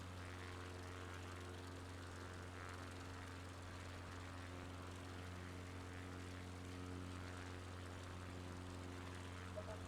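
A propeller airplane flies over La Palma near the volcano in Microsoft Flight Simulator, a steady droning engine hum that stays level and moderately loud throughout with no talk.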